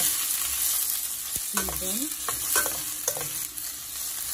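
Onion, sweet pepper, garlic, tomato and hot pepper fry in oil with a steady close sizzle, broken by a few clanks and scrapes of stirring utensils.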